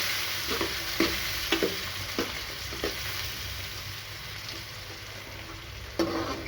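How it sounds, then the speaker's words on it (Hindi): Tomato and onion frying in a pan, a steady sizzle with a spoon stirring in a series of distinct scrapes and taps, close and fairly loud, no voices. "उसके बाद हम इसमें टमाटर और प्याज को डाल देंगे और इसको अच्छे से पका लेंगे।"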